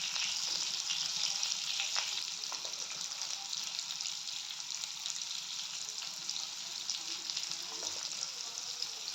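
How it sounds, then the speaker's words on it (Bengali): Jackfruit pieces frying in oil in a pan, a continuous bright sizzle held steady throughout, close but fairly quiet, with occasional faint stirring and no speech. "মোটামুটি কিছুটা মাছ ভাজার মতোই ভেজে নিতে হবে কাঁঠালগুলো"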